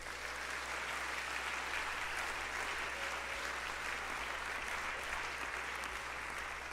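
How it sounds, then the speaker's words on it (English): A big round of applause from an audience at a business students' consulting presentation, a dense, even wash of clapping sustained throughout, fairly faint and distant. "could we get a big round of applause for the guys in the back"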